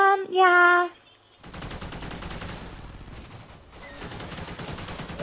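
A shotgun loaded with explosive rounds fires in Call of Duty Ghosts Extinction as rapid, continuous bursts of gunfire that run on for several seconds after a short voice.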